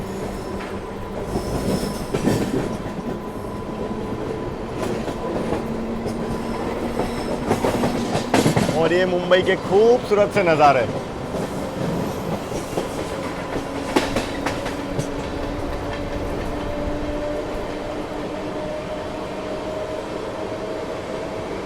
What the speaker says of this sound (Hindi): वेब 7 का एक्सेलरेशन साउंड भी आपको सुनाई देगा